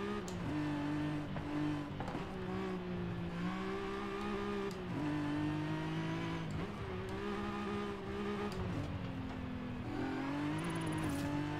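A Nissan 370Z Nismo in Forza Horizon 5 races around a track, its engine droning loud and steady with repeated dips and climbs in pitch as it shifts gears and accelerates again.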